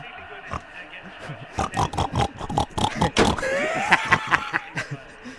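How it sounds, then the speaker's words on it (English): Pigs grunt and oink in quick snorting bursts, close and loud, one sustained squeal-like run rising near the end, with some overlapping voice sounds mixed in. "Pigs!"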